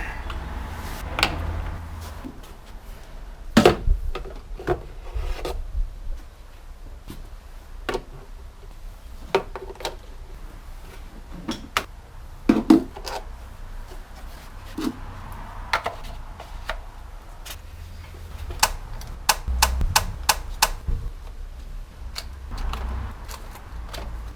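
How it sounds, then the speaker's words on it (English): Plastic engine cover being unclipped and pulled off a BMW E46/E39 engine: a series of sharp plastic clicks, snaps and knocks scattered irregularly over quiet shop background, close and fairly crisp. "to start that, we need to remove this plastic cover"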